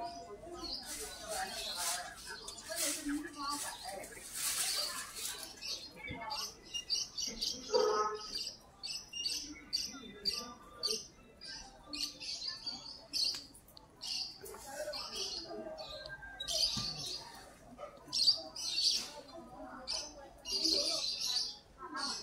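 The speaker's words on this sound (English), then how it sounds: "We got some cage birds and they're for sale as well." Caged birds chirp and tweet at a pet market in Beijing, with quick high chirps and squeaks repeating all through. Someone talks over them and the market background stays busy.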